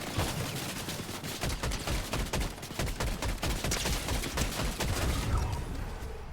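Rapid gunfire crackles in a video game, a dense, loud burst of overlapping shots that runs continuously with no talking.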